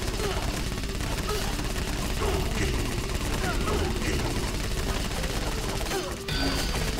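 Weapon fire in the Knight Squad arena game, a dense continuous clatter of rapid shots with crashing impacts and a brief dropout near the end, with players talking over it.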